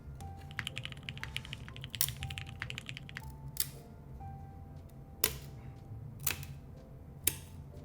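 Typing on a TX-CP V2 mechanical keyboard, close-up, with quick clacky keystrokes and occasional louder, sharper key hits over a low steady background hum.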